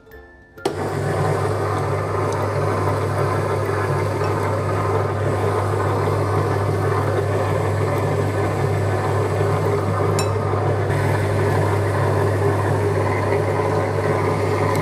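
An HMX-H02 noodle-making machine switches on and runs with a steady, loud motor hum and a constant mechanical whir that holds evenly throughout.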